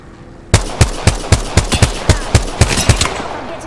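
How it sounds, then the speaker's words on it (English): Apex Legends gunfire: a rapid string of about ten loud, close shots in a steady rhythm, each crack ringing out briefly before the next. "I'm getting shot at. I am taking fire."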